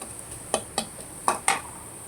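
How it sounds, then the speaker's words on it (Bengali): Dried fish roasting on salt in a dry pan, with four or five sharp scraping taps of a utensil against the pan over a faint steady hiss. "আর এভাবে মাছটাকে টেলে নেব লবণের উপরে।"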